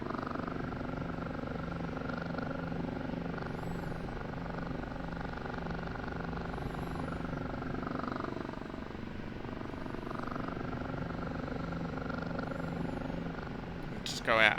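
A steady OH-58D Kiowa Warrior helicopter engine drone with rotor hum in a flight simulator game continues throughout, fairly quiet and unbroken, ending in a short louder burst.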